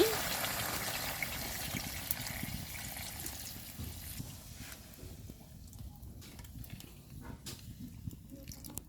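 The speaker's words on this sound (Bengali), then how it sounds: "আমি এখন পানি দিয়ে দিচ্ছি" Water pours into a pot of chicken curry made with two country roosters over a clay stove, a gushing, bubbling stream that tapers toward trickles and splashes, with speech around it.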